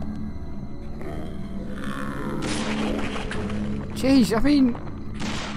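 Shotgun fire in the Deadly Premonition video game: heavy booming blasts under a rumbling background, followed by a brief warbling electronic effect, while someone talks over it.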